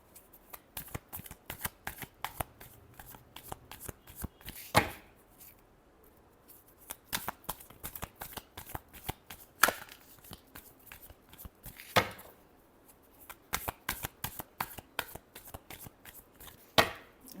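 A deck of tarot cards is shuffled close up in long runs of rapid riffling flutters, with several brief pauses and sharp taps as the deck is squared between bursts.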